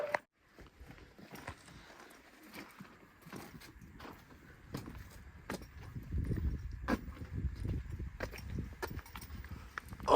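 Horses walk along the approach to a ranch house at the end of a ride, hooves clip-clopping in a steady, moderately close rhythm that grows louder and denser toward the end, with tack and gear rattling faintly.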